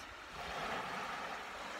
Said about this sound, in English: I listen to the sound of the waves